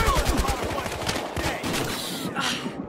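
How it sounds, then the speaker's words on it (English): Fireworks exploding in the video game Battlefield Hardline, a rapid rattling series of bangs and crackles, loud and dense, continuing without a break. "The fireworks are still going off."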